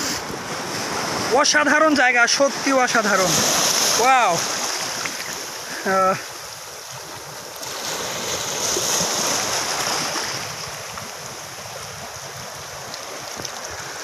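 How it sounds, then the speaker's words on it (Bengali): Big sea waves break and surge along the shore at Chhera Dwip off Saint Martin's Island, a broad roar heavily buffeted by wind noise, while a person exclaims excitedly over it in the first half. "অনেক বড় একটা ঢেউ, এরকম ঢেউ কন্টিনিউ আসতেছে।"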